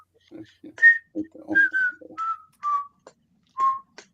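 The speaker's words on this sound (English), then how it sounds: "He whistles too." A man whistles a short tune of several descending notes, close and clear, with low murmurs between the notes.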